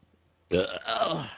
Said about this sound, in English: Pardon the burp.